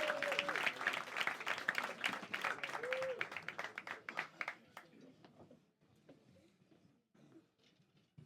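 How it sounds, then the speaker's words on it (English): Comedy club audience applauding a comedian's entrance, dense clapping with a few cheers for about five seconds, then thinning out to scattered claps and quiet room noise. "Start the round of applause."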